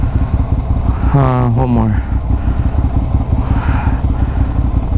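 A Ducati Monster 696 motorcycle engine idles with a steady low rumble, and a voice speaks briefly over it.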